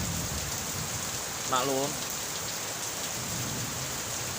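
Heavy rain falling steadily outdoors in a rural Sundanese village during eel fishing, a dense continuous hiss throughout, with a brief voice speaking over it midway.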